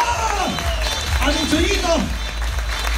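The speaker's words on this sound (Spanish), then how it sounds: "Para mi Chuyito de Oro, un aplauso" Applause from an audience at a gathering of radio announcers, clapping running beneath a man's loud speech throughout, with crowd noise in the background.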